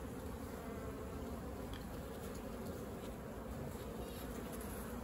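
Honeybees buzzing at a hive, a dense steady drone of many insects heard close and continuous, fairly quiet overall.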